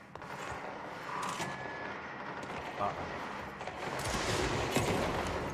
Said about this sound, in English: I land in a room and I can hear gunfire already